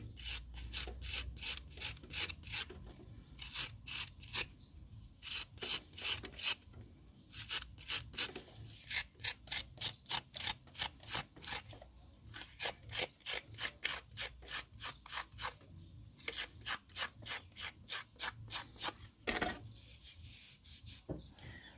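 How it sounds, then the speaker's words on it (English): A tool scrapes back the clay walls of a ceramic pinch pot in steady, rhythmic rasping strokes, close and fairly loud, with brief pauses between bursts and no talking. "where I feel it needs a bit more scraping back, I will do that."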